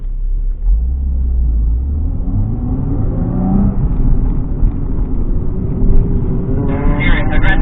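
A car accelerating through a slalom gate during a driving exercise, with a loud low engine rumble rising in pitch as it gathers speed, heard from inside the car under talk.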